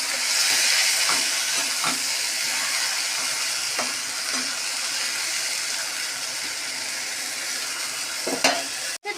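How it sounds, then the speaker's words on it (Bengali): Frying in a pan for a fish curry gives a loud, continuous oil sizzle and hiss close by, with occasional soft stirring scrapes and a clunk near the end. "এটা দিয়ে খানিকক্ষণ আমি একটু ভেজে নেব।"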